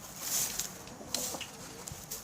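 A few laying hens cluck softly nearby in a coop, scattered short calls over quiet rustling ambience.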